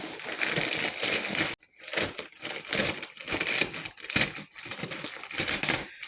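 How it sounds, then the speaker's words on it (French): A Temu parcel being opened by hand: close, loud crinkling and crushing of plastic packaging in irregular bursts, with one brief pause. "J'ai reçu un colis, donc on va l'ouvrir ensemble."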